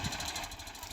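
A small FIAT 480 tractor engine idles steadily at close range, giving a continuous low rumble with faint knocking throughout the short stretch. No voices are present.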